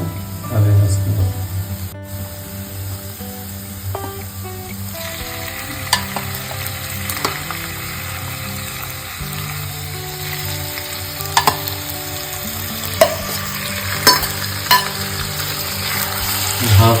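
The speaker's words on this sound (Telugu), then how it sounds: "దీంట్లో ఇప్పుడు చికెన్ వేసుకోవాలి." Marinated chicken is tipped into a pan of fried onions for a Telangana-style chicken curry, setting off a loud, dense sizzle that continues with clatters and stirring knocks, with talk over it.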